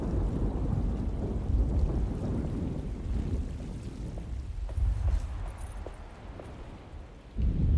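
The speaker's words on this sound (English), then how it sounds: "Just keeping an eye out for the storm. Radio says it could be a wild one." Stormy ambience from the video game Alone in the Dark: a steady, heavy low rumble of wind and rain with rolling thunder-like swells, loud and continuous, swelling again near the end, with no talk.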